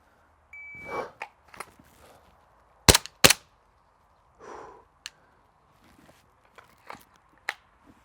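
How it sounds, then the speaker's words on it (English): A pistol fires two sharp, loud shots in quick succession during a shooting drill, with quieter rustling, handling clicks and a timer beep before and after. "on the timer, I'm gonna bring up my pistol and I'm gonna shoot 2 times"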